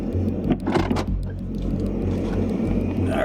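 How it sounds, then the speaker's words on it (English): A stock Chevrolet Astro van drives slowly over a stiff glacier patch on a dirt road in Grand Staircase-Escalante, giving a steady low engine rumble with a few crunching, cracking bursts early on. "There's a glacier in the way, so I'm gonna drive over it."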